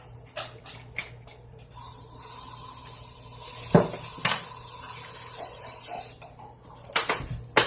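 Air freshener hisses out in a few short sprays, mixed with faint clicks and rustling nearby as it is added to homemade play dough.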